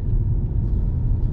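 Stock Volkswagen Scirocco engine and exhaust rumbling at a steady idle, a deep, even low drone close by with no talk over it.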